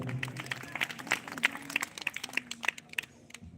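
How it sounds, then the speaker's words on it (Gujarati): An audience clapping during a bhajan programme at a Shivratri festival in a Somnath Mahadev temple: a fairly faint burst of scattered, uneven handclaps with a low hum and murmur beneath, thinning toward the end. "વધારે વધારે તાળીથી જોરદાર"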